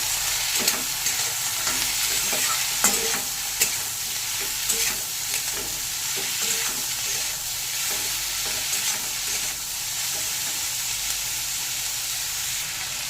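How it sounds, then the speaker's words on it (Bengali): Bitter gourd with fish roe, salt and turmeric is stirred in a pan, giving a steady sizzle of frying with repeated scraping and clinking of the spatula, close and moderately quiet, no talking. "হলুদ গুঁড়ো একটু ভালো করে সব নেড়ে মিশিয়ে নেব"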